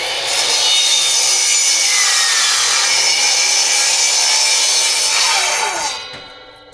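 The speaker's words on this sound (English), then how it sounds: "got my miter saw set up, and I'm ready to start making some cuts" A miter saw cuts through wood boards for a porch build, a loud, close, continuous whining rasp lasting about six seconds before the blade spins down and fades, with no talking.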